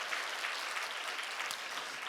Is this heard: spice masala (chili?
no